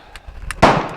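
A single sharp rifle shot from an M16A1 fitted with a scope, loud and close, with a short ringing decay after a few faint clicks and handling noises.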